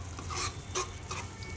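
Paneer gravy simmering in a pan as it is stirred, giving a faint, low sizzle with a few soft scraping bursts throughout.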